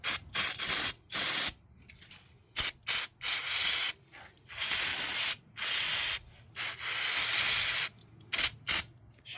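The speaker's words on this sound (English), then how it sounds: "shoot everything with brake clean" Short hissing bursts of aerosol brake cleaner sprayed onto the engine parts of a 1999 Toyota Camry 2.2L, about a dozen separate sprays of varying length with quiet gaps between them.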